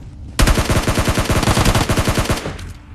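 A rapid burst of automatic gunfire rattles through a shooting video game, dozens of sharp, loud shots in an even stream lasting about two seconds before cutting off, with no talking over it.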